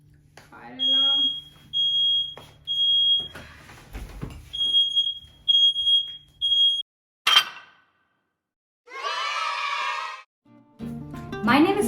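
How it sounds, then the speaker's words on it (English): A smoke alarm chirps in a series of short, high-pitched beeps, fairly close, with a voice speaking and other household noises breaking in between. "Fire alarm."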